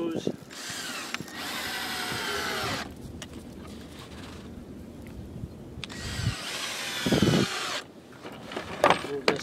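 Screws driven into green lumber while building a heavy-duty bee hive stand: two long whirring bursts of a cordless drill, each lasting a couple of seconds, separated by quieter gaps with some handling noise.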